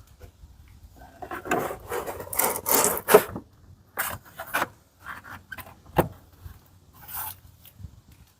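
A garage door cover panel slides under the door's weather stripping, giving a series of close scraping, rubbing strokes in uneven bursts with brief pauses between them.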